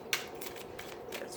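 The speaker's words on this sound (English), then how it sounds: "So I'm just shuffling the tarot" A tarot card deck being shuffled by hand, a sharp riffle followed by several soft papery swishes and flicks, close and moderately loud.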